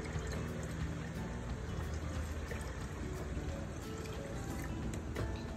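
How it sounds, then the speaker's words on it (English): Water poured from a measuring cup into a pitcher of fresh-squeezed lemonade with lemon juice and sugar, a steady close splashing pour lasting several seconds without pause. "add your 4 cups of water into your pitcher"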